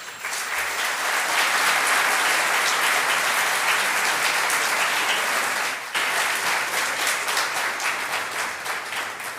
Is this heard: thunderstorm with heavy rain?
no